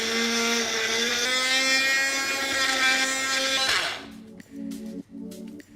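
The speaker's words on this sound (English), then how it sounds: "Now we'll grind it to a coarse mix to make the lasan chutney." A mixer grinder whirs with a high, steady motor whine while grinding garlic, sesame seeds and whole red chilies into a coarse garlic chutney, then winds down and stops, leaving a few soft clinks.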